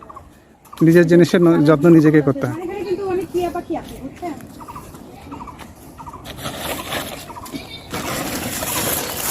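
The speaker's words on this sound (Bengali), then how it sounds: "অনেক সুন্দর পরিবেশে যে আমরা পাখির ডাকও শুনতে পাচ্ছি" Loud, gobbling bird calls near at hand, with people talking throughout and softer background noise afterward.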